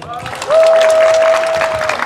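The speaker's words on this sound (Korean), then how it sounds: "큰 박수 좀 주세요" Members of a badminton club clap for visiting guests, a short burst of close applause with a sustained whistle-like tone running through it, while a voice murmurs underneath.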